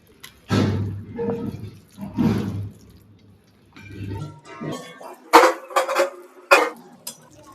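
Mutton is mixed by hand with curd and masala in a bowl. Wet squelching, slapping bursts come up close in uneven clumps, followed by a few sharper clinks and knocks of metal utensils.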